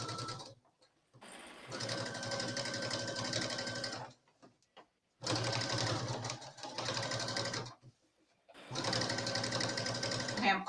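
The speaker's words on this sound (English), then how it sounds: "Okay, I'm almost done top stitching my hem." A sewing machine top stitches the hem of a skirt in three long running bursts separated by short pauses, steady and close, with voices faintly present in the gaps.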